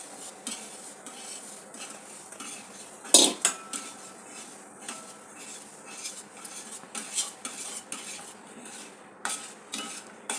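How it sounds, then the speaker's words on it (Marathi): Khapli wheat batter (chik) for kurdai being stirred in a pot, giving repeated clinks and scrapes of a utensil against the metal with a sharp knock partway through, steady and close with no talk. "आपल्याला मिक्सच करत राहायचं आहे जोपर्यंत चिक तयार होत नाही"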